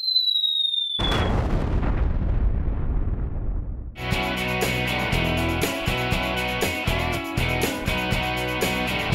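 Firecrackers as a sound effect: a whistling rise ends in a loud boom with a long rumbling decay, followed by a rapid, dense string of sharp cracking pops.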